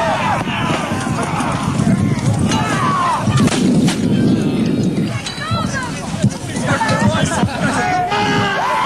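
Musket volleys crackle through a Battle of Prestonpans re-enactment, with repeated loud bursts of gunfire over a constant hubbub of crowd chatter and outdoor noise.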